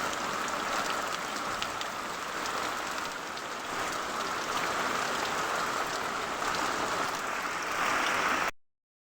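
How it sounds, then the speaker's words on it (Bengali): Heavy rain falls steadily outside, a dense continuous hiss with scattered drop patter that holds at an even level throughout before cutting off abruptly near the end. "প্রচুর বৃষ্টি হচ্ছে।"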